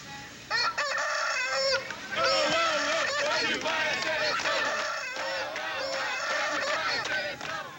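A neighbour's rooster crows repeatedly, loud and fairly close, its calls mixed with other fowl cackling and honking in a busy backyard chorus.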